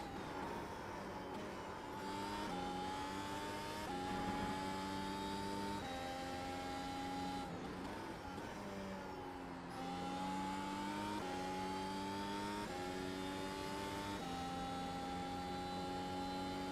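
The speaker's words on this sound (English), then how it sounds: "I'm highly addicted to the F1 car in iRacing." Formula 1 car engine in the iRacing sim, revving up through the gears with rising and falling pitch over about seventeen seconds, loud and steady, with short dips at each gear change and no talk.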